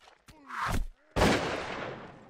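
Pistol shots in the video game Mount and Blade: a brief crack early, then a louder shot that rings out with a long fading tail, in the middle of a fight and with no talking.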